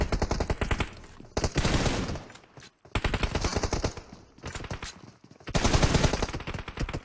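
Gunfire from the online shooter PUBG Mobile crackles in dense, rapid automatic bursts, loud and close, repeating in several long volleys separated by brief gaps.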